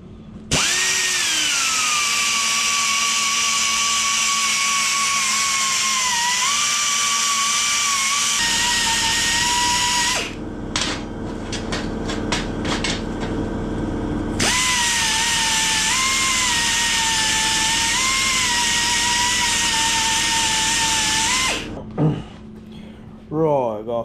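A belt sander grinding around welded metal tank brackets, a loud high whine in long sustained passes with pitch dips under load, broken by a short pause with scraping, then another long run.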